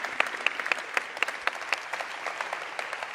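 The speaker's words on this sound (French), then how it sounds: "un dernier tonnerre d'applaudissements à Miles et Alex aux commandes de cette démo aujourd'hui" A conference audience claps for two demo presenters at a plenary session; the applause is fairly light and scattered, with distinct individual claps standing out against a thinner crowd.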